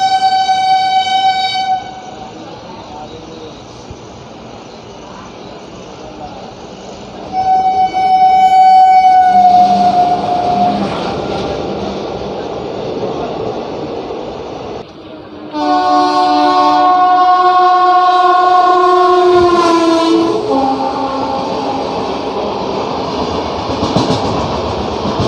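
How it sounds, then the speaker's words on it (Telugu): The Kakatiya Express, Secunderabad to Bhadrachalam Road, rumbles along the rails while its loud horn blares in three long blasts, the last one rising and wavering, over continuous clattering wheel noise. "ఈ ట్రైన్ వచ్చేసి Kakatiya express Secunderabad to Bhadrachalam road"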